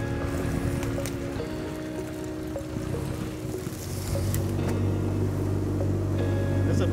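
A duck-hunting boat's engine drones steadily and loudly nearby, its low hum swelling partway through as the motor works harder, with water sloshing underneath.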